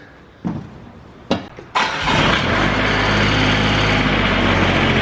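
A few sharp pulls of a starter cord, then a small lawn mower engine catches and settles into a loud, steady running drone.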